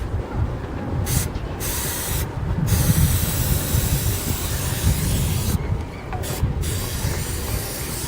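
Turtle Wax Wet N' Black tire shine sprayed onto half of a tire, a steady close hiss lasting several seconds with a few brief pauses between trigger pulls.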